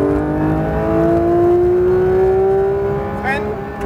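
A car accelerates on a race track with a loud, close engine note that climbs steadily in pitch as it pulls, with a brief higher whir near the end.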